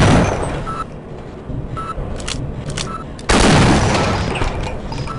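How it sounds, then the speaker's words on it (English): Gunfire in the Half-Life video game, a dense run of loud, close shots and bursts with a sharp, heavy volley near the end. "Oh, dude, you just shot him!"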